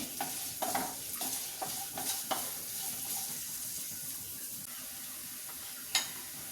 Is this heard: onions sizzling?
yes